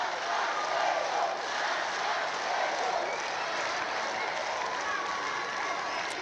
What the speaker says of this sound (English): you can hear the crowd getting behind them anytime they get into Ireland's half.